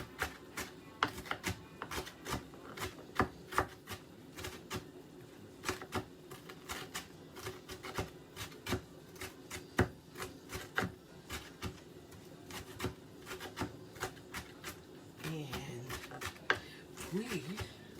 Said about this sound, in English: So now I'm just going to coarse chop this,